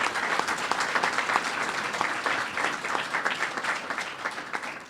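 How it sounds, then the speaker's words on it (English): An audience gives a round of applause for John Kane at a public housing smoke-free rule announcement, steady clapping with individual claps audible, gradually thinning toward the end. "A round of applause for John Kane."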